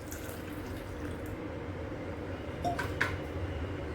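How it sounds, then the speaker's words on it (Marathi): Water is poured into rice flour batter in a kitchen, a soft continuous splashing trickle that stays low and steady, with a faint clink near the end. "आता हा 2रा कप मी पाणी घालतीये त्याच्यात."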